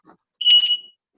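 An archery range safety system gives a short electronic beep with a warbling tone, sharp and fairly loud, sounding once after a faint brief noise.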